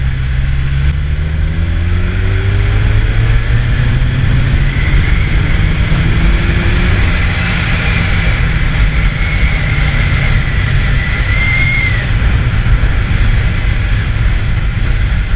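Kawasaki Z1000SX sport-touring motorcycle pulling hard from 2000 rpm in fifth gear, a steady loud engine drone with rising pitch, heavy wind rush over the whole stretch, no talking.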